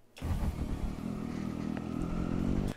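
A Triumph Street Triple motorcycle rolls up close, its engine note rising and holding as a steady, loud mid-pitched drone before cutting off sharply near the end.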